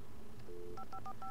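A telephone being dialed in Alan Wake gives out a short series of quick, distinct touch-tone beeps, about five in a row, over a low ambient rumble.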